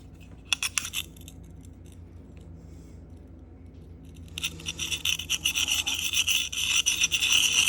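A knife blade is drawn across a Sharpal field sharpener, scraping rasps that come as a few sparse strokes at first, then settle into a quick, rhythmic run of back-and-forth rubbing close up.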